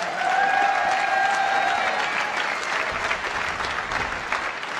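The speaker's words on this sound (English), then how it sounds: "Or yeah, another round of applause." Crowd applause at a squash World Series Finals tournament, a dense, loud, sustained roar of clapping from a large audience with a faint tonal sound early on.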